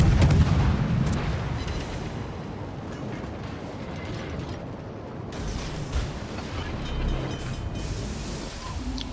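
Naval guns of the destroyer Cossack firing in a warship video game, a heavy booming volley near the start followed by continuous low rumbling battle noise and a few fainter thuds.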